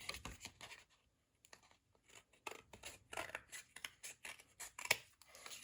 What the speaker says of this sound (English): I can just use my scissors to trim off the